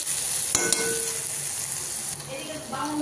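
Onion fries in a pan with a close, steady sizzle, broken by a few clinks and scrapes of stirring.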